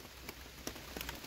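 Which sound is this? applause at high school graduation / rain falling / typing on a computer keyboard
rain falling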